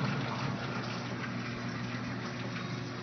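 An ESP 300 film rewinder from a print shop runs its speed motor, a steady, even machine drone that continues without a break at moderate level.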